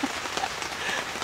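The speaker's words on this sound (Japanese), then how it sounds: "なんでいつも雨なの？ すごいよ、今12ミリだって。" Heavy rain pours down steadily, a dense close hiss of drops striking surfaces outdoors, with no voices over it.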